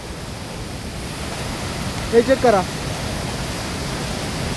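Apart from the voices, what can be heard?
rushing flood water in a gorge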